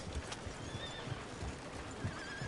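A horse near the stables in Red Dead Redemption 2 gives a neigh, with hoof clip-clops and a busy ambient background, close and fairly clear.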